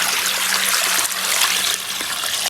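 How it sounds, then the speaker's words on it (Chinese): Water pours in a continuous, loud rushing stream into a cooking pot holding big bones, sauce and spices, close by, breaking off abruptly at the end. "加入清水"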